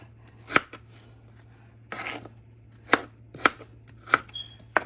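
A knife chops through food on a cutting board while pork adobo with potato is prepared, giving about half a dozen sharp, irregularly spaced strikes close by, with no talking.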